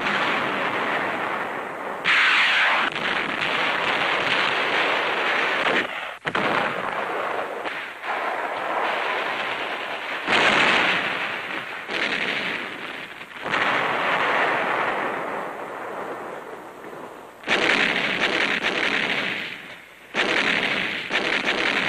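Battle gunfire and explosions from 1945 newsreel footage of troops fighting through Japanese delaying actions on the road to Manila: dense, continuous loud bursts and booming blasts in repeated waves, with no talk.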